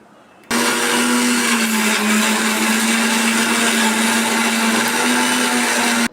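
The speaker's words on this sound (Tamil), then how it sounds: "இப்போ வந்து மிக்சியில் போட்டு அரைக்க போகிறோம்." Mixer grinder blending cooked ingredients with water, starting abruptly after a moment of quiet and running at a loud, steady whir with a strong motor hum, then cutting off right at the end.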